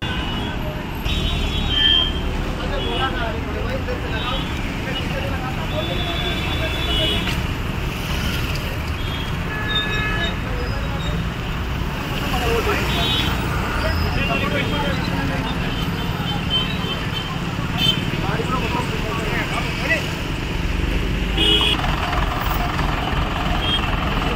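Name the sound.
traffic of vehicles stalled on Bijapur highway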